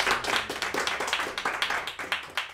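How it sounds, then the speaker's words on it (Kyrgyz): A studio audience at a Kyrgyz aitysh contest claps for the akyn poets, brisk close-up hand claps in a quick uneven rhythm, loud and unaccompanied by speech. "Акындарга дагы бир жолу кол чабуулар"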